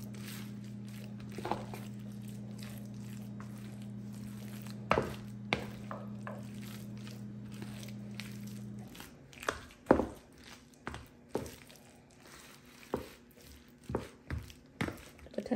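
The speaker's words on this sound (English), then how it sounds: "Just stir them gently together." Tender cooked potatoes are stirred gently with a wooden spoon in a pot, making soft irregular knocks and scrapes. A steady hum runs beneath the first half, and the spoon strikes grow louder and more frequent later.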